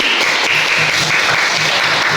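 A classroom of students claps together for a group that has just presented, producing a dense, even burst of applause from start to finish with no talking over it.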